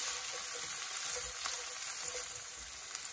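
Green whole chillies fried with onions on high heat for prawn bhuna, a constant bright sizzle with faint stirring clicks, close and steady with no voices.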